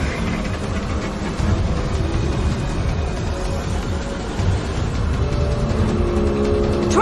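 A taxi with a fare meter drives in the video game Mass Effect 2, its steady engine and road rumble running loud and continuous with no talking.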